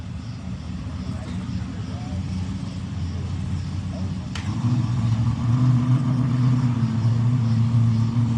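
A drag racing car on a no-prep true street grudge track idles and backs up in reverse, a steady low engine drone that swells louder about halfway through, with crowd chatter in the background.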